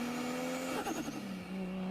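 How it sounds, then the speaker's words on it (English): A car engine runs with a high, thin turbo whistle rising and falling over the engine drone, brief and fairly quiet. "the real reason why people want turbos is because of that sweet turbo whistle"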